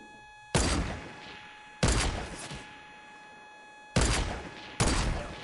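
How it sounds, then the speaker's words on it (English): Sniper gunfire in a video game: four loud, sharp shots spaced unevenly over about five seconds, each with a booming crack and a short decaying echo, under a faint steady tonal hum. "I hear tons of sniper bullets."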